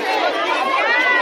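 A dense crowd on the 9th of Muharram at Anaro Kothi Imambara in Kolkata makes a steady, close wash of overlapping chatter and murmuring voices, with no single voice standing out.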